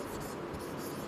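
Chalk or a marker scratches continuously across a board while someone writes out a polynomial, a soft, steady scraping heard close up without talk.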